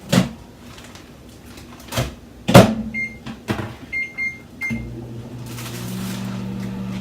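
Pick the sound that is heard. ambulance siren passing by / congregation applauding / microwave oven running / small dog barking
microwave oven running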